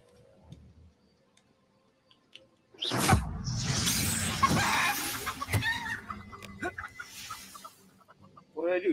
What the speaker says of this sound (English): Did I just turn him into a chicken?